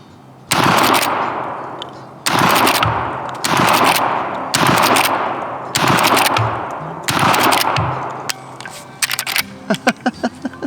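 A Henry .410 X model lever-action shotgun fired down range outdoors, six loud, sharp blasts spaced roughly every one and a half seconds, each with a trailing echo, followed by quick metallic clicks of the action being cycled.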